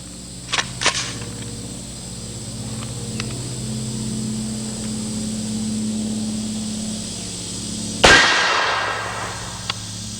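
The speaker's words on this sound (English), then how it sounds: "Let's see the full metal jacket bullet on the steel target." A .460 full metal jacket bullet slams into a steel target, producing one sharp, loud metallic impact crack late in the clip, preceded by a low steady hum and a few faint earlier clicks.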